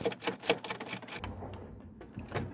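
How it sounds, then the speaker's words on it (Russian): A hand ratchet fitted with a 13 mm socket loosening a car suspension bolt on a Dacia Duster, giving a quick run of close, crisp clicks followed by a few quieter, scattered ticks. "Головка на 13 откручиваем."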